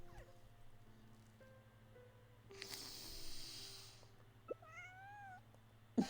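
A cute kitten gives a few soft meows near the end, faint and close against a low hum, preceded by quiet snuffling breaths.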